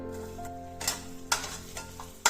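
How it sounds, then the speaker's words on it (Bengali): A few raisins fry in hot oil left from frying nuts, a soft sizzle under a low hum, broken by several sharp spatula scrapes and clinks against the pan. "এই তেলে কয়েকটা কিশমিশ ভেজে নেব।"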